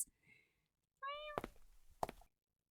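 A person imitates a cat's meow, one short rising-and-falling mew followed by a couple of dull thumps and quiet breathy noise.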